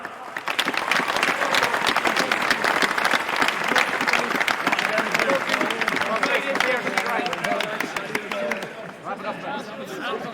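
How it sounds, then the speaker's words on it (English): Sustained crowd applause at a Meath Hill v Moylagh junior final presentation, dense steady clapping with cheers and chatter mixed in, loud throughout and easing slightly near the end. "Can I get them two men the biggest round of applause?"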